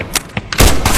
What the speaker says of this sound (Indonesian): Jun malah menembak duluan dan...